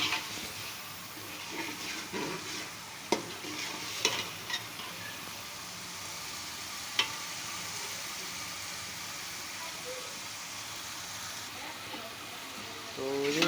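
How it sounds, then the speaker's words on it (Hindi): Chicken with vinegar fries in a pan for chicken macaroni, a steady close sizzle running throughout with a few sharp clicks of a spoon against the pan. "तो ये कम अज़ कम 2-3 मिनट के लिए हम इसको फ्राई करेंगे"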